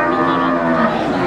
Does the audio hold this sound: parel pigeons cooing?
no